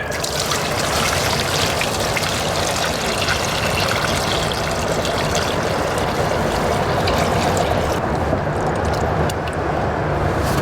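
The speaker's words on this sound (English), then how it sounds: "Pour it in the top, and it's kind of doing a cyclone of a whirlpool sucking the water down" About 2 to 2.25 gallons of water poured steadily from a jug into the top of a garden watering system, a continuous close trickling, gushing pour that swirls down like a whirlpool for the whole stretch, with no talk.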